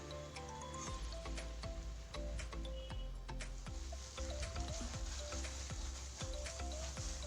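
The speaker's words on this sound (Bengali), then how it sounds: "তো আলুটা দিয়ে আর 2-4 মিনিট মতন ভালো করে একটু কষিয়ে নেব।" Fried potatoes stir-fried with chicken curry in a pan give a soft sizzle with scattered clinks and scrapes of a utensil, quiet and close, with no voices.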